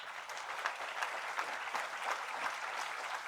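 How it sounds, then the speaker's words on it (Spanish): Congregation applauding at a church service, a steady dense wash of many hands clapping at moderate volume throughout, without voices on top. "Dale un aplauso al Señor."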